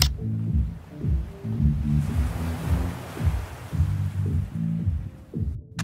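Ocean waves breaking near a hotel in Los Cabos, heard as deep, rolling surges and low rumbling throbs that rise and fall under a soft wash of noise, with no voices.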